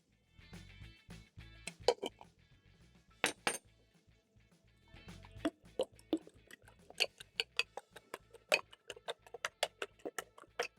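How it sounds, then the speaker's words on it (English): A whisk clicks briskly against a bowl while eggs are beaten with turmeric, black pepper and salt, giving short bursts of fast metallic ticks that speed into a steady rapid rhythm, close and clear with no voices. "whisk in the eggs and add into the pan"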